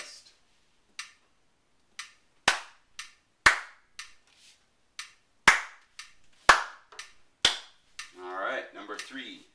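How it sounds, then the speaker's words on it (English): Sharp hand claps ring out one at a time in an uneven counted rhythm during a say-and-clap rhythm lesson, separated by short silences, with a brief burst of murmuring voices at the end. "Let's clap that one more time."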